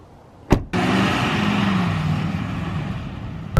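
A car pulls away for a ride to a newly repainted facility: after a brief thump, a steady road and engine rumble rises and holds, fairly close and loud, with no talking.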